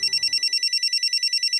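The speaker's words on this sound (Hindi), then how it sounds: "ये देखो चेतना का फोन" A telephone rings in an indoor domestic scene: a rapid, steady electronic trill pulsing evenly and clearly, close, with a faint low murmur fading out at the start.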